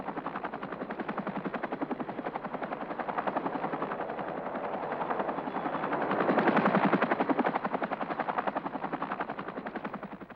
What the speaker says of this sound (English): the crew do have a chin-mounted fast-firing rotary 20 or 30 millimeter cannon